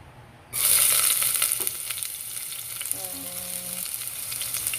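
Garlic hits oil already hot in the pan and bursts into a sudden loud hiss, then settles into a steady bright sizzle with a faint tonal hum in the background, no talking over it.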